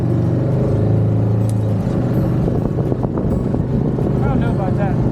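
Kubota RTV utility vehicle pulling away outdoors after its brake is released, a loud steady engine rumble with wind buffeting the microphone throughout and some rattling.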